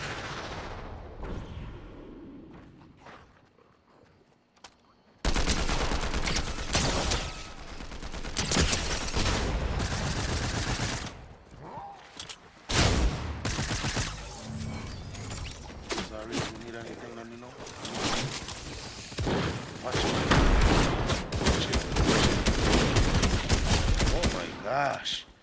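Suppressed gunfire in a video game shooter, long stretches of rapid, dense shots and clattering bursts after a quiet opening, with excited voices talking over the action.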